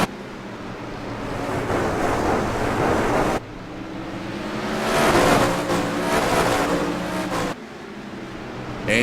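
360 sprint car racing engines roaring at Irwindale Speedway, a continuous loud, rough engine wash with rising and falling intensity as cars pass, mixed with heavy wind noise and a couple of abrupt cuts.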